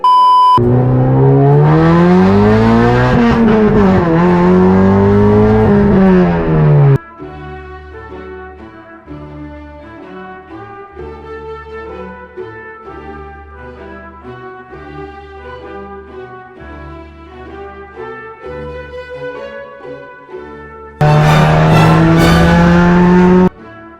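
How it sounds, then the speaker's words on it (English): A boosted ninth-generation Honda Civic with a K24 engine revs hard with tires spinning, a loud sustained rising and falling roar at the start, a quieter rhythmic stretch in the middle, then another loud burst at the end. "K24 sounds so good. Oh, shit. Spinning tired."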